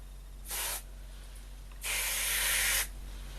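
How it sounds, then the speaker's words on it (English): Aerosol cleaning spray hisses into a Philips valve radio in two bursts, a short near blast followed by a longer steady one, over a quiet low hum. "Well, first of all, some of the magic spray."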